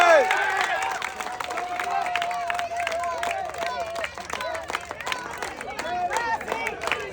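An outdoor crowd at a village game of hanging from a spinning tyre claps for four contestants. Scattered, busy applause and crowd noise run throughout, mixed with a high tonal whine and loose chatter.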